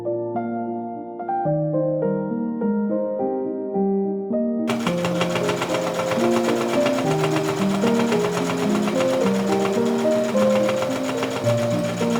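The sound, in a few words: sewing machine thumping through thick fabric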